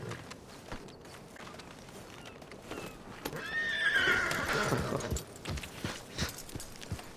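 A horse in the Red Dead Redemption 2 video game gives a clear whinny in the middle, while softer hoofbeats clop around it throughout.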